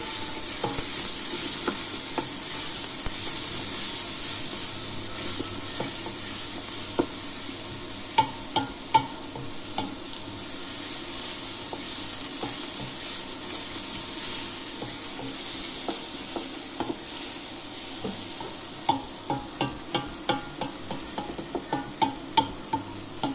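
Shallots, a halved garlic clove and a small sprig of thyme sizzle gently in a pan, with a steady frying hiss and scattered clicks and scrapes of stirring that grow more frequent toward the end.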